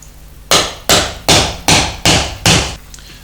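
Hammer striking a steel sheet-metal bobber motorcycle fender during rust patch work: six sharp, loud metallic blows at an even pace, close up, with no talking.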